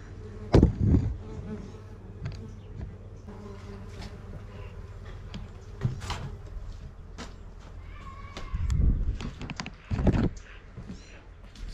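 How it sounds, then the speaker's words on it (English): Bees buzzing around a nest inside an old wooden rural building in Slovakia, a steady insect drone with a few louder knocks and rustles passing close by. "Oh, there's a bee nest here."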